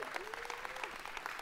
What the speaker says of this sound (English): And you guys just applauded